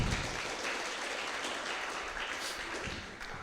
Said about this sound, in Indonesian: Oke, tepuk tangan dong sekali lagi.